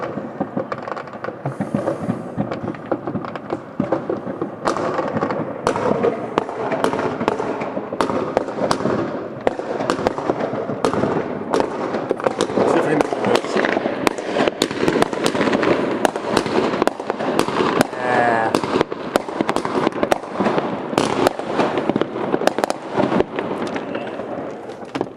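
Fireworks going off outside a window, a dense, continuous barrage of crackling bursts and booms layered over each other for the whole stretch, loud and steady with sharp pops throughout.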